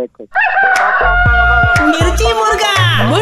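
A voice imitates a rooster's crow, a drawn-out rising and falling call, loud and close, with a few short vocal sounds mixed in.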